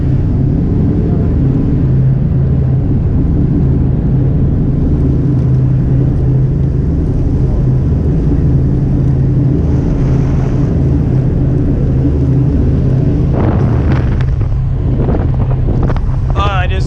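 Osprey Shuttle ferry at night off the west coast of Grenada, a deep steady engine rumble mixed with heavy wind buffeting and water rush, with a voice talking near the end.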